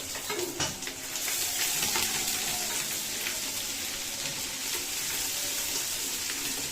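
Ginger paste and five-spice (panch phoron) fry in a hot pan with a steady, bright sizzle that swells after an initial crackle and holds continuously, close by with no talk.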